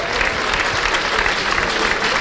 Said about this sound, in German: Wir begrüßen mit einem herzlichen Applaus